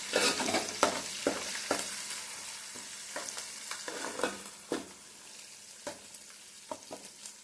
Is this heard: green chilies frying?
yes